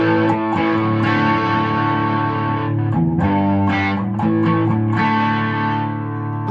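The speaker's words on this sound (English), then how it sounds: "Let me get rid of a little distortion here." Loud, sustained distorted electric guitar chords ringing with a thick, fuzzy tone, changing chord partway through, no voices, played during a Joy to the World guitar lesson.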